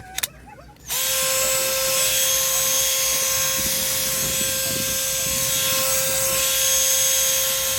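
A cordless impact wrench, newly fitted with 18650 battery cells, spins up after a brief click and then runs continuously with a steady high whine and motor buzz, loud and close, no voices.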